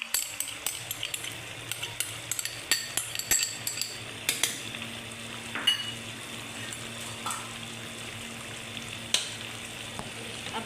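Mutton qeema sizzles and fries with turmeric, coriander and masala in a pan while a utensil stirs and scrapes in frequent sharp clinks and taps over a steady soft crackle, with no talking.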